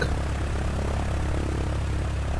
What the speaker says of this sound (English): this engine sounds really good on this airplane